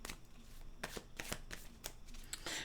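Tarot cards being shuffled by hand, a quick series of riffling flicks and soft slaps, close and fairly faint, about eight bursts in under three seconds.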